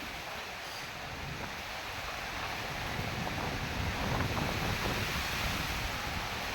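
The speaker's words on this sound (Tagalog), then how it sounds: "Grabe yung hangin niya, bugso bukso lang." Strong gusty wind roars continuously across the microphone in Sabang, Palawan, a dense rushing noise that swells slightly louder partway through.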